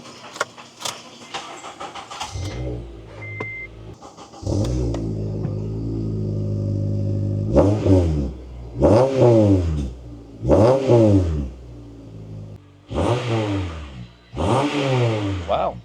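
A 2006 Acura TSX six-speed with a new muffler starts and revs repeatedly, loud, close bursts of deep exhaust rising and falling in pitch with short pauses between them.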